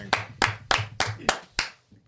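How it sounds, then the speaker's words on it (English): Six slow, even hand claps ring out one after another at a steady beat, sharp and fairly close, with a short pause after the last. "Keep clapping."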